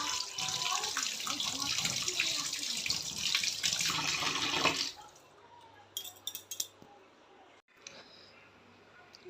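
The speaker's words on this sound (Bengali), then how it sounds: "চলো মাছগুলো তাহলে এখন ধুয়ে দিই।" Tap water running into a kitchen sink while rohu fish are washed: a steady, fairly loud gush for about five seconds, then the flow stops and faint splashes and handling noises follow, close by.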